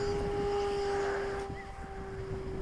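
A model airplane engine with a new propeller runs with a steady high whine and a constant tone, moderately loud, then eases slightly partway through.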